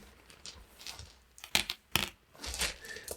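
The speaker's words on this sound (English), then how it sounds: "We'll also put 3 crystals on top of them." Small crystal game pieces clack and tick onto board game cards on a tabletop: a few crisp, close clicks with soft handling rustles between them, no talking.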